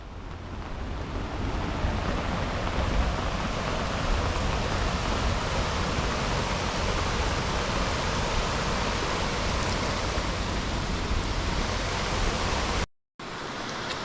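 A flooded river in Slovenia spills over its banks with a loud, steady roar of rushing water. The roar runs unbroken until a brief dropout near the end.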